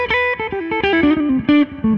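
Gibson Nancy Wilson Nighthawk Standard electric guitar with its five-way switch in the fifth position, played through distortion as a quick run of clear, bright single notes and chord stabs, loud and close with no talking.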